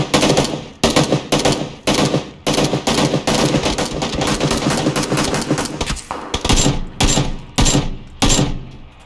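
Automatic gunfire in the PUBG video game crackles in loud, rapid bursts with short gaps between them, each volley packed with sharp shots.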